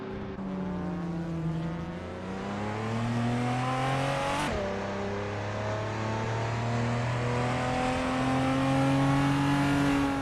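Retro street cars race in a video game, with loud engines revving and shifting through rising and falling pitches as several cars jostle close together, one sharp whoosh passing by midway.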